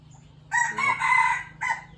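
A rooster crows once, loud and close, a short drawn-out call with a brief tail at the end.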